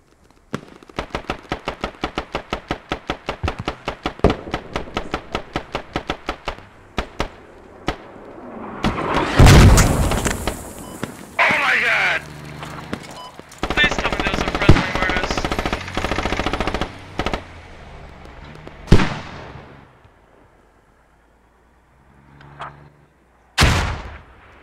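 Mortar and gunfire in the military shooter Squad: a rapid, evenly spaced string of loud automatic shots, then heavy booming blasts and rumbling explosions with scattered single cracks, close and forceful, fading to near quiet before a final bang.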